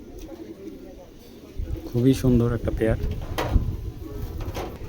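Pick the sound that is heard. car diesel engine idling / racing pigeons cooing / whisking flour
racing pigeons cooing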